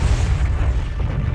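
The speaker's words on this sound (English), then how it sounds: "The explosion sends a trail of fiery fragments toward the continent below." A comet's airburst explosion over North America rolls as a deep, continuous booming rumble, loud and sustained throughout without any voices.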